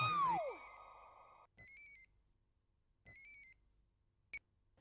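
A telephone ringing in a Hindi Chacha Chaudhary cartoon: after a falling whistle, two separate electronic ring bursts sound about a second and a half apart, with a brief chirp after.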